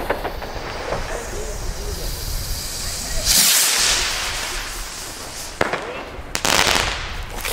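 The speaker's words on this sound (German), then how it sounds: "Sind Plop-Raketen." Weco plop rockets go off outdoors, hissing whooshes with sharp pops and crackles, one long rising hiss followed by several quick bangs, fairly close, with faint voices in the background.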